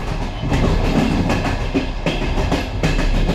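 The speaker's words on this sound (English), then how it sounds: "As the train rolls on" A Ukrainian hospital train rolling along the rails, with a steady rumble and rhythmic clickety-clack of wheels over rail joints, loud and close throughout with no voices.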